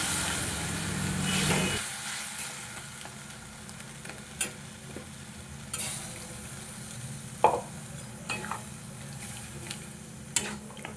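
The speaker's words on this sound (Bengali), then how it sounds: "মশলাটা যেহেতু শুকিয়ে গেছে তাই আমি মিক্সি ধোয়া জলটা একটু দিয়ে দেবো দিয়ে এটা আরও একটু ভালোভাবে কষিয়ে নেবো" Spice paste for a rohu fish curry frying in a pan after a splash of blender-rinse water, with a hissing burst at the start settling into a low sizzle and scattered stirring clinks.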